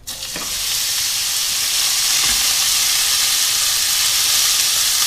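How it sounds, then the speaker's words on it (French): Ground beef sizzles steadily in a hot pan over fairly high heat, a loud continuous crackling hiss with a brief scrape of stirring near the start. "je vais faire revenir ma viande de bœuf pendant 2-3 minutes sur feu assez fort"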